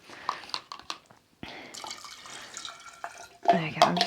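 Lime pop dye solution, 0.2 grams dissolved in water, poured into a larger vessel of water for dyeing bamboo and silk yarn; splashing and trickling liquid sounds up close, with a person talking in parts.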